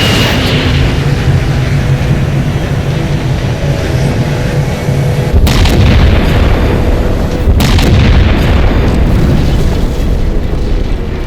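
A large cannon fires in the Halo 4 campaign, a sustained roaring boom with heavy low rumble and two sharp blasts, loud and continuous throughout, without speech.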